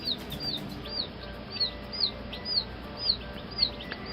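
Baby chicks give high, sharp peeping chirps roughly every half second, an unhappy repeated call close by over a low hum.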